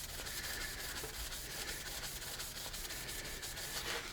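A paper towel soaked with rubbing alcohol rubs back and forth over a sanded pen blank, making a faint, rhythmic scrubbing swish in quick repeated strokes with no talking.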